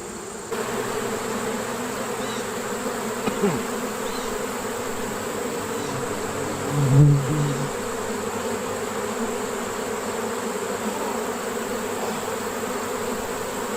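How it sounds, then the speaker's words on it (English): Continuous buzzing of many honeybees at an open hive, a steady droning hum that swells slightly midway, with no talking. "Bees with bright yellow pollen, that's probably the goldenrod that's out there."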